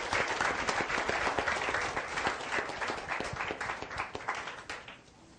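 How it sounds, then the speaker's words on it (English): Seminar audience breaking into applause, dense clapping from a crowd that stays strong for several seconds, then gradually thins and fades out. "Give yourself an applause."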